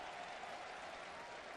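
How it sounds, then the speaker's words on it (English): A baseball stadium crowd in Toronto claps steadily for a called ball, a dense, even wash of applause heard from a distance and lasting the whole moment. "They're applauding the balls, booing the strikes."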